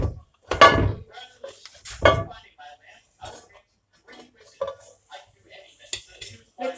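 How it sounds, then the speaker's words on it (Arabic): Harsha semolina flatbread flipped in a frying pan, with two sharp metallic clatters of utensil against pan up close, followed by softer scraping and light clinks amid quiet kitchen sounds. "دابا غادي نقلب هاد الحرشه."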